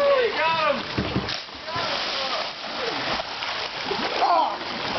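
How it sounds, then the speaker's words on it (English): Someone jumps into a backyard swimming pool, with a loud splash and churning water, while excited voices and shouting carry on throughout. "if Chris jumps in, all the water will come out of the pool"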